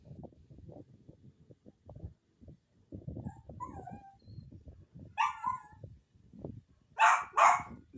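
Several sharp dog barks ring out near the end after a stretch of low murmuring voices, two or three close, loud yaps in quick succession.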